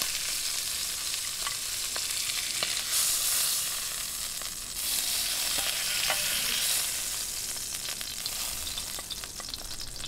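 Pork leg (pata) frying in oil in a pan, a steady broadband sizzle with crackles and pops throughout, close and fairly loud, no talking.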